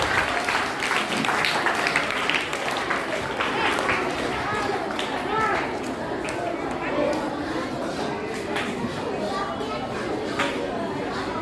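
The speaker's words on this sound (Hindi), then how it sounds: "जोरदार तालियों से सभी स्वागत कीजिए।" A school audience at a Hindi Diwas celebration claps to welcome the chairperson, a dense sustained applause with murmured chatter running through it for over ten seconds.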